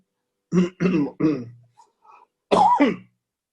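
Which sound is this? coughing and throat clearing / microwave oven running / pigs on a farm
coughing and throat clearing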